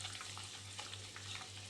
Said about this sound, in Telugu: ఇప్పుడు అటు ఇటు తిప్పుకుంటూ కొద్దిగా ఫ్రై చేసేసుకుందాము.